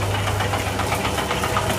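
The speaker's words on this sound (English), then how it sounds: "Got to talk over here because the lathe is so noisy." Metal lathe with its back gear engaged, running noisily with a constant close grinding, knocking drone and a steady low hum, alone without talk.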